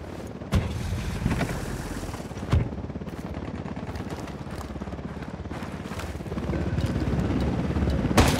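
A helicopter from the video game Ghost Recon Wildlands drones steadily throughout, loud and dense, mixed with bursts of gunfire and a couple of sharp booms.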